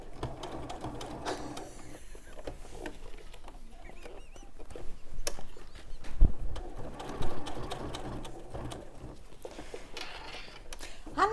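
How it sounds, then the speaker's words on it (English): A sewing machine stitches steadily through fabric, a close mechanical whirring and rapid needle patter that runs throughout with brief pauses and small knocks. "the machine's not struggling either. It's sewing through it like butter"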